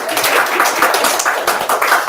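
An audience at a year-end evening gathering applauds to welcome a speaker: a dense, continuous patter of many hands clapping, fairly loud and even throughout, with no talking over it.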